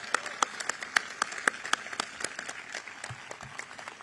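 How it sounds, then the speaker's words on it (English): A small crowd applauds at a graduation ceremony with scattered, overlapping claps that stay fairly steady and moderately loud throughout. "Give them a big round of applause as we start their graduation today."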